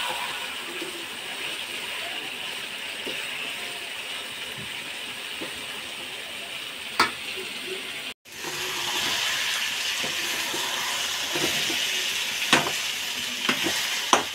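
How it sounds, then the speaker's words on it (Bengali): Chicken leg pieces sizzle and fry in a spice masala, a steady hiss with occasional stirring scrapes and clinks, briefly cutting out before resuming louder and closer. "মশলাটা ভালো করে কষানো হয় নাই, আর একটু কষিয়ে নেব।"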